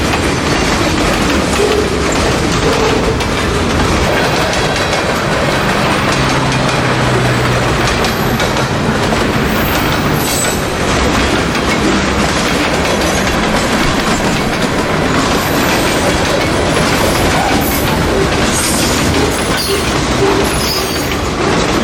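A CSX freight local, made up mostly of boxcars, rolls past nearby with loud continuous rumbling and rhythmic wheel clatter, some faint squeals, and no voices.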